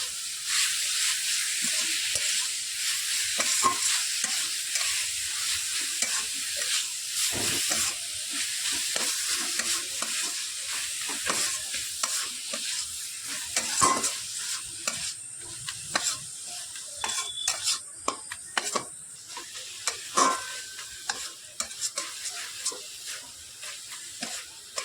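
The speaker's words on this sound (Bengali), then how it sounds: "নাড়াচাড়া করে আমি পুরটাকে রেডি করে নেব" Grated coconut and jaggery filling stirred in a pan, a steady sizzling hiss with repeated scraping strokes of the spoon throughout, close and fairly loud, no voices.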